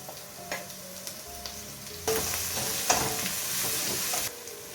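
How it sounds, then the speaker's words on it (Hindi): Grated garlic and ginger hit a hot pan with a chicken pulao underway, a few quiet clinks giving way to a sudden loud, steady sizzle that holds for a couple of seconds before easing, no talking. "तो ये मैं डाल दे रही हूँ लहसुन और अदरक।"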